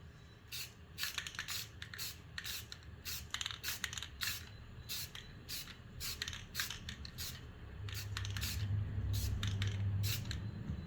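Short hissing bursts of a rattle can spraying a light gray guide coat onto an MGB body panel, quick irregular spurts repeating close by, with a low hum rising near the end.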